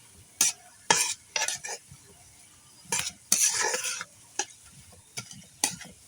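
Food being pressed down in a pan with a spatula, giving a run of sharp scraping, clattering strokes in uneven bursts over a soft sizzle, close and fairly loud, no voices.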